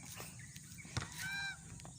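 A goose honks once, a short nasal call over quiet outdoor background with faint scattered clicks, on a walk along a road.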